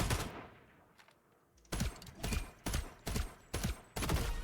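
Gunfire in the video game FragPunk: a run of sharp, loud shots in quick succession after a brief quieter lull, close and punchy, with no speech over them.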